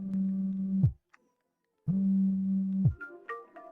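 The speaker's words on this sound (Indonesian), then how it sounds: "Nona Mingzu, aku harus menerima telepon" A phone rings with two steady, even electronic tones of about one second each, separated by a second of silence, loud and close, with fainter bright chimes trailing after.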